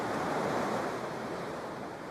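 Steady broadband wash of sea waves on a beach, continuous and fairly loud, with a constant surf roar and no voices.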